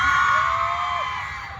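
A large audience at a cosplay contest cheers and shouts together in a sustained loud roar, with whoops and high yells over a dense crowd wash that fades slightly toward the end.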